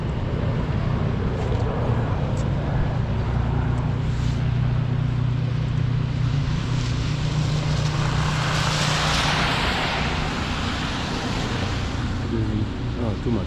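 An airplane passes overhead above a snowy Sunnyside neighbourhood street in Queens, a broad, distant roar that swells toward the end over steady outdoor background noise.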